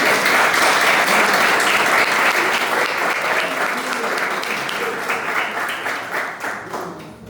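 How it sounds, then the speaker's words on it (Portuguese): A church congregation bursts into loud, dense applause that holds steady and then thins out and fades into scattered claps at the end. "Vamos dar uma salva de palmas para o Senhor, irmãos?"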